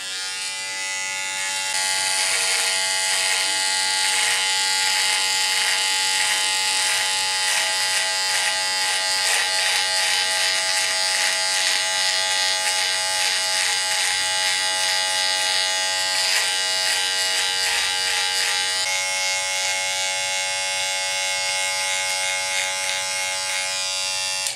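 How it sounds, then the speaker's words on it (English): An Andis Profoil Lithium Titanium foil shaver buzzes steadily and close up for a long stretch, its hum wavering slightly as it moves, with no voices. "then I will finish off with the Andis shaver"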